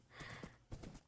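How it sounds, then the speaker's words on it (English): A donkey in the Minecraft video game makes agitated sounds, with hoof clip-clops and braying bursts heard quietly and close, no talk over it. "I see a little donkey. Oh, there it is. All right. Donkey's freaking out."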